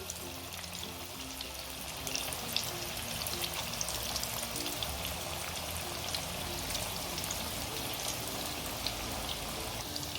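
Sweetcorn fritters deep-frying in hot oil, a dense, steady hiss and bubbling crackle that holds evenly throughout at moderate level, with no talking.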